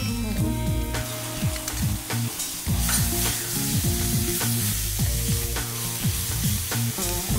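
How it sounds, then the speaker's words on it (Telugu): Green chilli and ginger garlic paste fry in a pan for paneer curry, making a continuous loud sizzle with stirring scrapes over a steady tonal background hum. "మన జింజర్ గార్లిక్ పేస్ట్ కొంచెం పచ్చి వాసన పోయేదాకా వేయించుకోవాలి."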